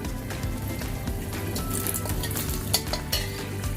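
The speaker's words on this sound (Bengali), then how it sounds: "কড়াইয়ের মধ্যে আমি শুকনো লঙ্কা ফোড়ন দিলাম। ফার্স্টে শুকনো লঙ্কা দিলাম" Dried red chillies sizzle in hot oil in a wok, a steady, loud, close crackling hiss with a few sharper pops.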